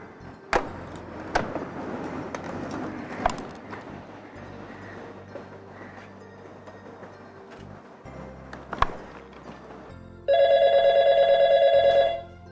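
A telephone rings with a steady electronic double-tone burst near the end as a call is placed to Kolhapur, following clattering handling sounds and jangling keys.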